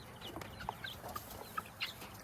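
Chickens cluck softly in a farmyard among guinea fowl, with scattered short clucks and chirps over a faint low background hum, with no voices.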